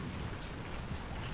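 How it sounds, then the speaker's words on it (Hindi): Heavy rain pours in a dense, steady hiss with a low rumble of thunder underneath, loud and unbroken throughout, as a sound effect for a horror story. "इतनी ज्यादा बारिश कर रहे हैं और साथ में कड़कती बिजली मुफ्त में बरसा रहे हैं"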